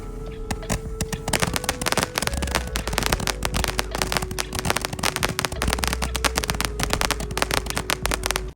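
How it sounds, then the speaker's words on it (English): Firecrackers set off at night at a beach cabin crackle in a dense, continuous barrage of sharp pops and bangs, loud and close, with no let-up throughout. "I love firecrackers. There is just something energetic about it."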